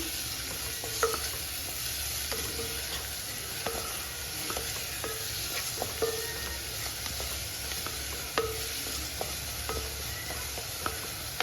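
Sliced onions sautéing in a pan with dried red chillies and salt for an omelette curry, a steady gentle sizzle under regular spatula stirs and taps, close and with no talk.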